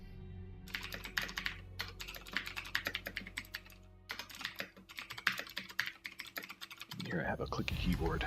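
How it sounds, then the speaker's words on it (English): Rapid typing on a clicky computer keyboard, close and crisp bursts of sharp key clicks in uneven runs with short pauses, ending as a voice starts talking. "Here I have a clicky keyboard."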